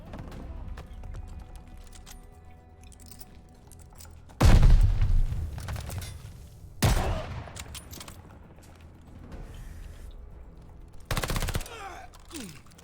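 Gunfire in the video game Call of Duty Vanguard, with loud bursts near 4.5 s, 7 s and 11 s over a low, busy game backdrop.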